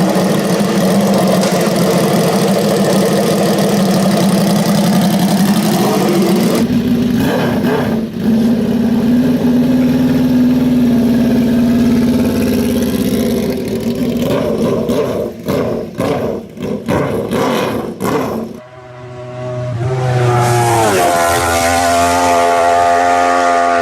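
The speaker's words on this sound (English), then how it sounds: "It's a liquid cooled 1200cc 72 degree V4, and the sound is absolutely fantastic." A Norton V4CR motorcycle's liquid-cooled 1200cc 72-degree V4 engine runs loud and close, a steady throbbing idle rising into revs, then a sharp cut and a fresh higher-pitched rev near the end.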